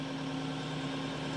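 A TYM T754 tractor engine runs in a steady, low, droning idle, with an even hum that holds throughout and is fairly quiet, with no voices over it.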